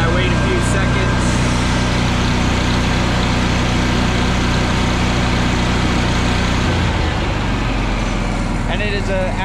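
A welder rig's engine idling steadily after a cold start, a loud, even low rumble that runs the whole time and shifts slightly in tone near the end.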